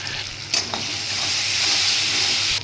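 Ground spice paste of coriander, cumin, dried chilli, green chilli and turmeric sizzles and fries steadily in hot oil in a pan, a loud continuous hiss with a couple of brief stirring clatters near the start.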